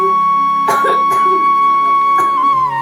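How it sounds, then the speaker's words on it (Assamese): A few sharp coughs, one pair close together and another a moment later, over a steady electronic hum. "ইমানকে কাহি আছে"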